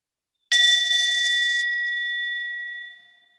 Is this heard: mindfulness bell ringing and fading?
yes